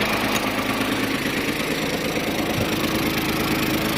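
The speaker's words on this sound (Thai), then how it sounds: "พีดีโอหมุนทำงานนะครับ" An Iseki TM17 two-axle tractor engine runs with the PTO engaged, a loud, close, continuous diesel rumble with knocking and vibration, constant throughout with no talking.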